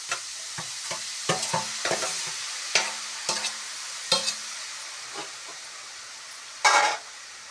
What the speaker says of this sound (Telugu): దీన్ని బాగా కలుపుతూ ఉండాలి, కలుపుతూనే ఉండాలి పచ్చివాసన పోయే వరకు